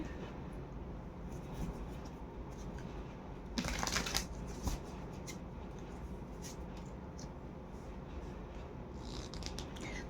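Tarot cards shuffled in the hands, a continuous close papery riffling and sliding, with a brief louder burst of flicking midway.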